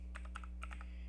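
Rapid keystrokes on a computer keyboard during network device configuration, ending with an Enter press: about eight crisp, close clicks in an uneven rhythm over a steady low electrical hum.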